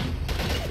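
A rapid burst of gunfire from the video game Max Payne 3, dense and loud and filling the brief moment.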